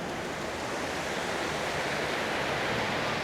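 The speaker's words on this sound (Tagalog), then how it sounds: "May river dito," A river flows in Kyoto at night, a steady, broad rushing wash of water that holds constant and fairly loud with no talk over it.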